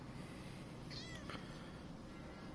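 A single elderly cat meows in one short, faint, wavering call among several outdoor cats, heard alone against a steady low background hum.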